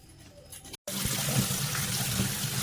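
Dried hilsa fish rinsed under running water, a steady close gush and splash after a brief quiet moment, with no talking.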